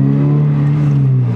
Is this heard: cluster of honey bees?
no